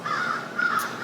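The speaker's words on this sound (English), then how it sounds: "you can probably hear the crows in the background there making themselves known" Crows cawing in the background, a steady run of harsh calls close together across the whole short stretch, moderately loud and with no talk over them.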